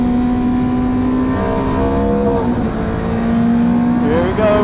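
A Ferrari 430 GT3 Challenge race car engine pulls hard back onto the power during a track day. The loud, steady engine note rises in pitch as it accelerates, with a gear change partway through and another climb near the end.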